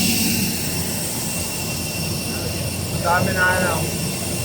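Steady jet engine roar of an airplane carrying passengers on a flight to Siargao, a constant loud drone filling the cabin with voices talking over it.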